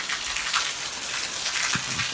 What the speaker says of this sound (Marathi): पाऊस सुरू झाला सकाळ सकाळी